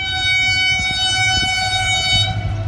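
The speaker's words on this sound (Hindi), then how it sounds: "ये देखो अभी एक रेल आ रहा है यहाँ से गग्गर फाटक से गुजर रहा है, कितना स्पीड से" A train races through the Gaggar railway crossing in Malir, Karachi, its loud sustained horn blaring over the rumble of the moving cars, close and continuous throughout.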